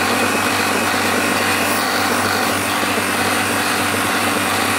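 A new vacuum pump sucks air out of a chamber holding a candle, a loud continuous mechanical drone with rattling hum that holds steady throughout, with no talking.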